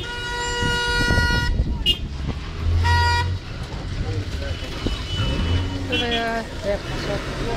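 A car horn honks in several separate blasts, loud and close, at the scene of a car fire in Atyrau, with traffic noise and voices in the background.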